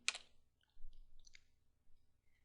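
A few light, sparse keystrokes on a computer keyboard while a Linux command is typed, quiet and close with short pauses between the clicks.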